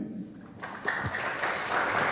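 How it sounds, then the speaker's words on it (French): Applause at a national music institute graduation ceremony, starting quiet then swelling abruptly into steady clapping from an audience that grows slightly louder toward the end. "Alors Juan Carlos, c'est un grand honneur pour nous de t'applaudir"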